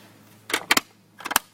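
Paintball hopper pod being pushed into a paintball gun and the gun switched on: a few sharp, dry plastic clicks and snaps in two quick clusters, close by against near silence.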